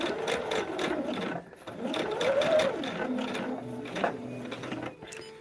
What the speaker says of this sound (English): I'm going to put my machine all the way up to the longest stitch length